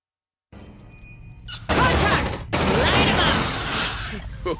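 Weapon fire in Aliens: Dark Descent, loud rapid bursts following a quiet electronic tone, with dense crackling shots and impacts sustained over several seconds; a voice is briefly heard.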